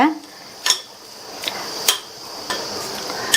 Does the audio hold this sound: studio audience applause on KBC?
no